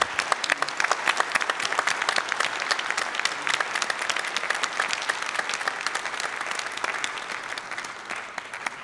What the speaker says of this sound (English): I would like to end with giving a hand of applause for our outgoing chair, MAG chair, Mr. Paul Mitchell